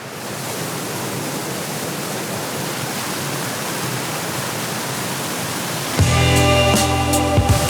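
Natural waterfall pouring down steadily outdoors at a busy park, a continuous broadband rush that stays loud and even, then shifts abruptly to a brighter, more tonal texture near the end.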